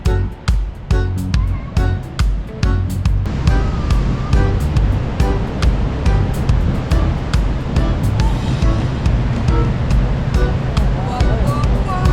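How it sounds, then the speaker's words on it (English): Raging river rushing at Niagara Falls, a loud constant roar of churning water with repeated sharp knocks and bumps on top, heard close. "That's a raging river."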